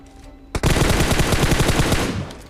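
Rapid automatic gunfire in the battle royale game PUBG bursts out after a brief quiet start, a sustained loud stream of shots with a sharp onset that carries on without pause.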